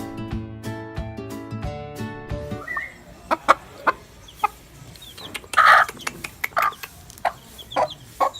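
Music plays briefly, then chickens cluck close by in short irregular bursts, with one louder squawk midway.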